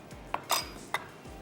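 A spoon clinks against a bowl while chopped onion, fresh coriander and jalapeños are mixed together, three quick metallic taps within a second and a half, close and bright.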